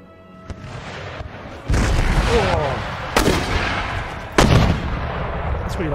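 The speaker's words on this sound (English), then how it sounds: "More round shot coming into the centre." Cannon round shot booms repeatedly in an Empire Total War siege battle at Malta, with several loud, sharp artillery impacts and reports over a continuous battle rumble, no speech.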